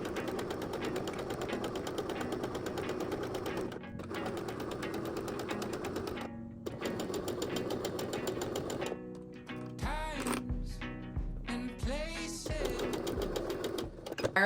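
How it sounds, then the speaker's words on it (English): A sewing machine runs a straight 1/4 inch seam through fabric, its needle chattering in fast, steady bursts up close, pausing briefly between runs, then switching to slower, uneven clunks toward the end. "we are going to sew a 1/4 inch seam allowance, and we're going to sew just a straight line all the way down"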